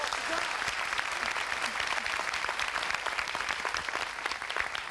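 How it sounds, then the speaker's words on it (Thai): Studio audience on a Thai television singing-contest show applauding steadily for several seconds, a dense continuous clatter of many hands with a few faint voices mixed in. "ขอเสียงปรบมือกับคุณป้าเลยนะครับ"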